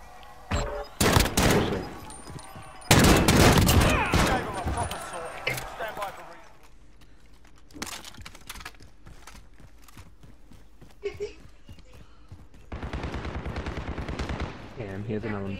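Light machine gun fire in a multiplayer shooter game bursts out loudly in dense rattling volleys, followed by scattered single shots and clicks, while players talk over it.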